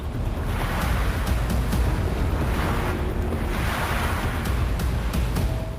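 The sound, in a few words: ocean waves around island in the Arabian Sea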